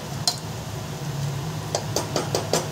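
A pressure cooker lid is fitted and closed over pulao, giving a single light metallic click and then a quick run of small clinks near the end, close by over a steady low kitchen hum.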